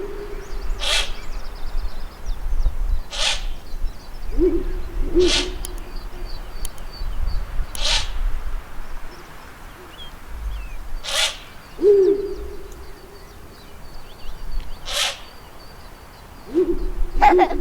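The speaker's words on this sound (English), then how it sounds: "Ural Owl." Low, soft Ural owl hoots come at spaced intervals against a quiet outdoor background, punctuated by sharp, evenly spaced clicking bursts.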